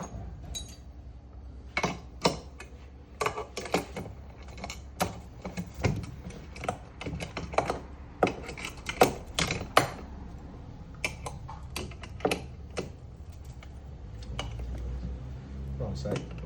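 Metal wrenches tighten nuts and bolts on a Tucker window screen cleaner stand, giving a string of sharp, irregular clinks and clanks close by over a low background hum.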